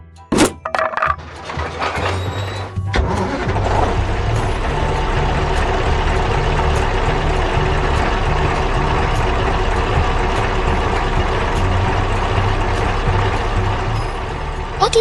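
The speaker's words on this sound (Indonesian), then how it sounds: "Truknya mulai melaju kencang." An animated truck's engine rumbles and builds into a steady, loud drone as it speeds up, after a few sharp knocks at the start.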